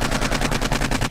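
An AK rifle in the video game 7 Days to Die fires a rapid automatic burst, about a dozen sharp, loud shots in even, quick succession with no pauses.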